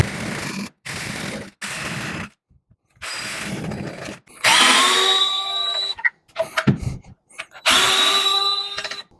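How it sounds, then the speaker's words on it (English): A power drill bores a hole through a door for a door knob, whining in two sustained bursts with a steady high tone, separated by short pauses and clicks, close and loud. "Now I can come back and drill out my hole."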